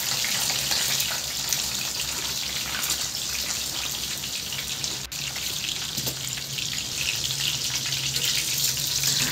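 Chicken breast fillet frying in a pan, a steady close hiss and crackle of oil running unbroken with no voices.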